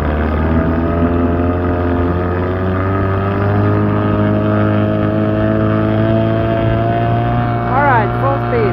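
A 1987 Evinrude 8HP outboard engine runs at high speed, a loud, steady whining drone with its pitch climbing and holding, heard close by without talk.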